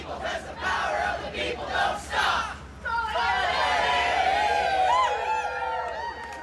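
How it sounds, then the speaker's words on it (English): Boisterous crowd of striking Canada Post workers with friends and family at a rally outside a postal station, first rhythmic shouted chants, then a swell of cheering, whooping and loud overlapping voices, close and lively. "It was a boisterous crowd of postal workers, their friends and family outside Station B on 15th Avenue"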